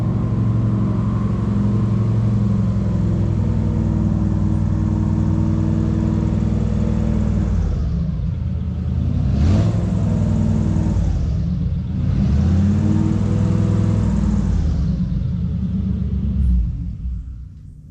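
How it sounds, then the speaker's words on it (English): Boat motor on a South Florida hunting trip, a steady low rumble that fades out and then swells again through two long revving sweeps before trailing off at the end. "I just heard my boat crank up"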